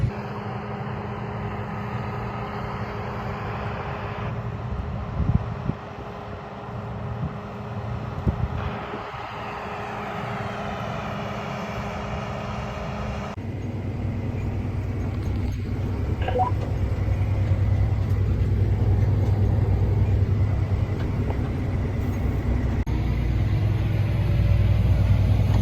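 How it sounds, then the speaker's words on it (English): A combine harvester engine runs steadily during a milo harvest, a continuous low rumble with wind noise buffeting the microphone that grows louder partway through, without talk. "So after a 2-mile move, I caught up to the other combine"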